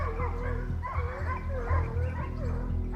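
A pack of hunting dogs chasing a boar during a hunt in France, with continuous yelping and bow-wow barks layered over one another at steady loudness, mixed with rustling movement and some voices.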